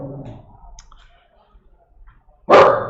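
A dog barks once, loud and sharp, close by near the end, after a quieter stretch with faint clicks and a brief muffled voice.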